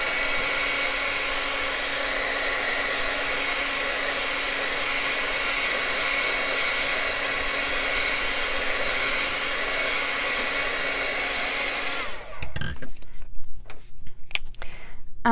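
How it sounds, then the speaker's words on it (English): A heat gun drying freshly stamped ink blows a steady loud whooshing roar for about twelve seconds, then cuts off, leaving quiet handling noises and faint clicks. "I'm going to give it a quick blast with my heat gun"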